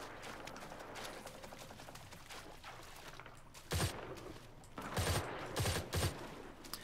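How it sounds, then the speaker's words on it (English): Muffled gunfire from friendly players crackles in the distance in the shooter game Firefall, with several short bursts rising briefly above a low ambient wash. "the muffled sounds in the distance from the other gunfire from friendlies"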